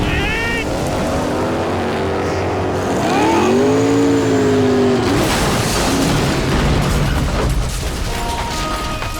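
Boat engine at full throttle in the Max Payne 3 video game, with a loud, steady, near roar that rises in pitch as it revs, plus a swelling whoosh and a brief shout over it.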